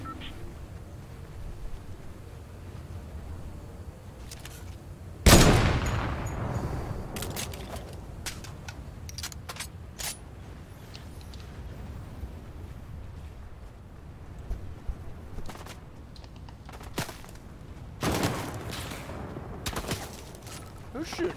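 Gunfire in Fortnite, with a loud sudden blast followed by scattered sharp shots and bursts spread over twenty seconds of match noise, while players talk throughout.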